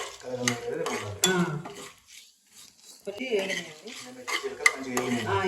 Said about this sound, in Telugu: రెండు కలుపుకొని వేయించుకోవాలి